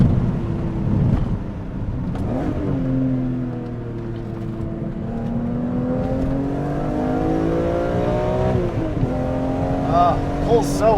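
A Dinan-tuned BMW E46 M3 in Interlagos Blue accelerates hard toward its 8,000 RPM redline through tight left and right turns, engine pitch climbing steadily in long linear sweeps, with a brief shift dip near the end and voices talking over it.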